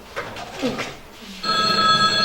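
A telephone bell rings loudly and steadily, starting partway through after a stretch of murmured voices.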